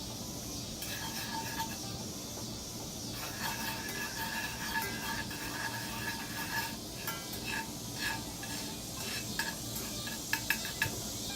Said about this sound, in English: go ahead and brown the garlic and the shallots, but not burn them before you put anything else in